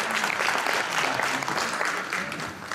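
The congregation at an opening Mass of the fifteen Thursdays of Saint Rita bursts into sustained, full applause, with faint voices mixed into the clapping.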